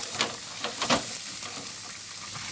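Finely chopped onion fries in hot refined oil with a dried red chilli, giving a steady, close sizzle with light stirring scrapes over the constant hiss.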